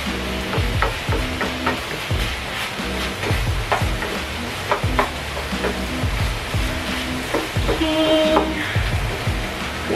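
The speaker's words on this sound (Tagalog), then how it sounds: "So, let's mix them again" A spoon stirs a pot of kimchi stew with ham and kikiam, giving repeated clinking and scraping knocks over a constant bubbling sizzle, close up with no talking.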